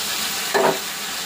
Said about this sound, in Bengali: সেটা এখন ভাজা হয়ে গেছে সবজিটা